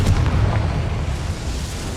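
A deep booming blast from the Confringo explosion spell in Hogwarts Legacy, loud and rumbling with a short crackling tail that fades over two seconds.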